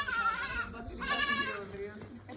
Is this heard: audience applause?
no